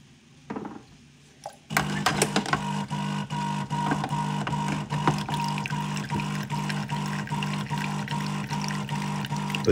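A De'Longhi Electa Explore coffee machine runs its rinse cycle: after a couple of soft clicks, a steady pump drone with trickling water kicks in and continues evenly throughout.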